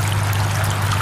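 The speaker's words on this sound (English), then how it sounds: "On the stream here in Lancaster County." A small native brook trout stream in Lancaster County, Pennsylvania, flowing with a steady, close rushing wash of water that stays even throughout, with no voices.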